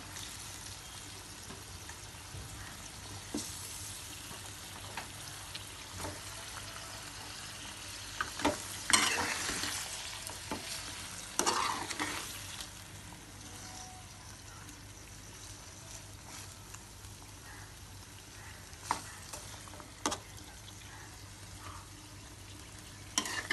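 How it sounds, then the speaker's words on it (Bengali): Meat cooking in spice masala in a pan, a steady soft sizzle with bursts of stirring and scraping around the middle, fairly faint and with no talking. "মাংসটা কষতে থাকুক।"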